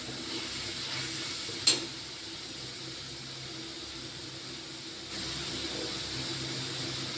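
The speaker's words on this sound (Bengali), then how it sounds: "এবার পেঁয়াজটা একটু ভালো করে ভাজা ভাজা করবো, এর মধ্যে একটু রসুন দেওয়া আছে" Onions with garlic fry in a pan, giving a steady low sizzle throughout with a brief clatter of stirring early on and a slight rise in sizzle later; no talking.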